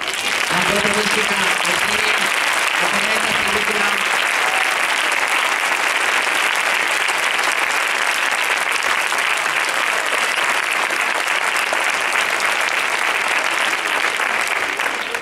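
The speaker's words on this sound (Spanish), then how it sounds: "un fuerte aplauso a todos estos músicos que son los que hoy han puesto música" Audience at a film-music concert by a brotherhood's concert band gives long, loud, continuous applause for the musicians, with a few cheering voices near the start, then an even dense clapping roar to the end.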